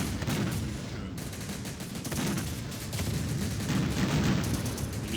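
Sustained gunfire from the war video game Syrian Warfare, a dense, continuous fusillade of overlapping shots that runs steadily and loudly throughout, with battle rumble beneath.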